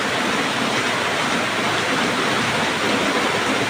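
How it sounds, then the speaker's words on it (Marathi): Heavy monsoon rain pours steadily in Alibag, a dense, continuous roar of water falling close by, loud and unbroken with no voices. "पाऊस आमच्या अलिबागचा पाऊस."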